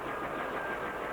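A US Air Force helicopter turbine engine drones in a steady low rumble with a faint high whine on top, holding level throughout with no clear spin-down.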